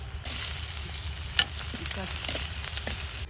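Crushed shallots and green chillies fry in oil with turmeric powder for a masala. They give a steady, close sizzle with a few clinks and scrapes of a stirring spoon and one sharp tap, and no talking.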